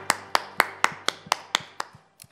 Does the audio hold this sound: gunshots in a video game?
no